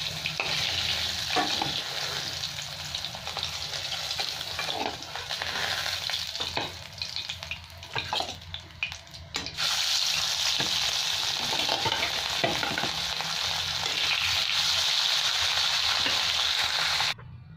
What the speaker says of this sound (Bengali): আর কটা মাছ আছে, এটা ভেজে নিলাম।